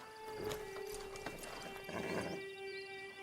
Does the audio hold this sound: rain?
no